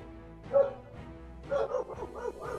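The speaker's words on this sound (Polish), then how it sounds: "Tak, pies się odpalił." A dog barks in a few short, muffled woofs and yips nearby, with a pause between bursts.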